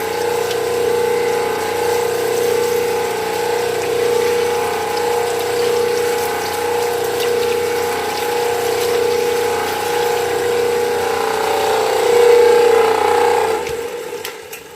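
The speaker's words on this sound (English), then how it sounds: "I gotta pull the drain plug out of it too" Transmission fluid drains out after the drain plug is pulled, making a steady, close, continuous pouring and gurgling stream that holds for most of the clip before fading with some handling noise at the end.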